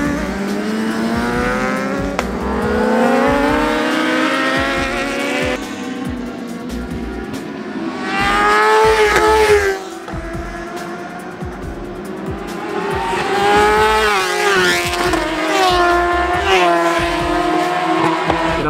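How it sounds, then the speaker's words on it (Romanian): Race motorcycles scream at full revs close behind during a national championship race, high engine whines rising and falling through gear changes for the whole stretch, loud and continuous with no speech. "în spate se auzeau cel puțin două motociclete la full rev care veneau imediat după mine"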